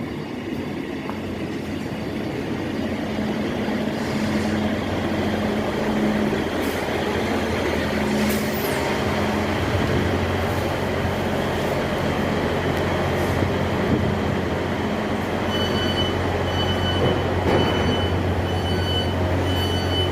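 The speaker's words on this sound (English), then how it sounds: "There's a train coming now." A train rumbles into Driffield station alongside the platform, a loud continuous roar with low engine drone, rail clatter and a brief high squeal, building steadily over twenty seconds.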